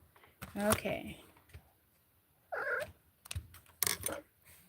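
Cats meow indoors beside someone sewing, a few short calls spread through the moment with quiet gaps between them.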